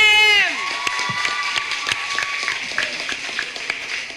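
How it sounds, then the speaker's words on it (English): Audience clapping and cheering at a debate competition, a crowd of claps building after a brief tonal sound at the start and continuing steadily through the clip, with scattered shouts. "Clap him!"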